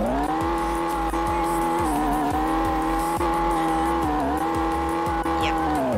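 A car engine in the Roblox game, running on a custom engine sound, hums steadily with layered tones, dipping briefly and then holding. Faint ticking recurs underneath, and no one speaks.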